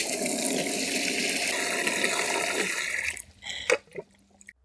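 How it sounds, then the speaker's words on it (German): Backwash water from a pool sand filter gushes steadily and loudly into a bucket, then the flow cuts off, leaving a few splashes and drips. "jetzt nochmal der letzte Dreck wirklich in den Eimer reingespült wird und nicht in unserem Pool landet"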